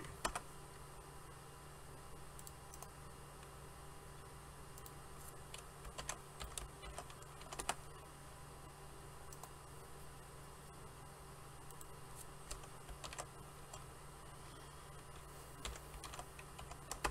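Someone types on a computer keyboard in a quiet room, soft irregular key clicks in short bursts over a faint steady fan hum.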